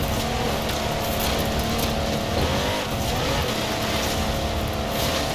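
Mercedes 6x6 truck from the Forza Horizon 4 video game, originally built for the Australian Army and able to reach 125 mph, drives with a steady, continuous engine roar and road noise throughout, loud and unbroken with no talk.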